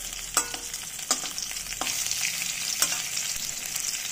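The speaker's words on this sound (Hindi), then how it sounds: "भिंडी को हम डाल देंगे।" Stuffed okra pieces fry in hot oil in a pan, a continuous bright sizzle with a few sharper crackling bursts as pieces go in, close and alone.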